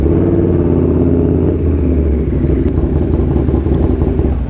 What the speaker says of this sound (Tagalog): Gagong ingay ng motor ko, nahiya na ako.